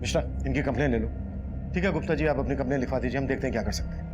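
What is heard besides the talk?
No everyday noises stand out.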